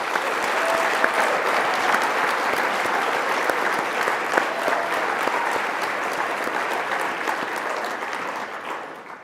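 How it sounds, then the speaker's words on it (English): Audience applause at the EcoCAR Mobility Challenge awards ceremony, a steady, dense clapping from a sizable crowd that continues for about nine seconds and fades slightly toward the end. "let's give them a big round of applause."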